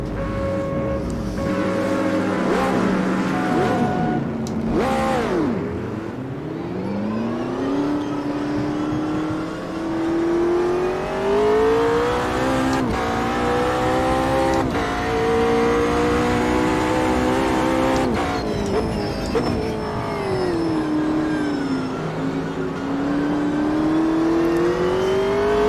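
Race cars roar through a VR racing video game, engine notes rising and falling in continuous sweeping pitch as the pack accelerates and shifts, loud and sustained throughout with no talk.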